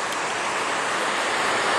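A waterfall roars beside a perch-fishing spot, a loud steady broadband rush of falling water filling the whole stretch without a break or any talking.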